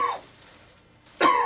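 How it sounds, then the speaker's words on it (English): Two loud, close coughs from a patient lying on an examination bed during an abdominal exam, one at the start and a second after a brief quiet pause. "We can do this by having the patient cough."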